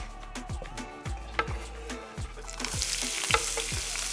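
Peppers and onion hit hot olive oil in a pan, a close sizzle with regular stirring knocks and scrapes, the frying hiss swelling louder toward the end, no voices.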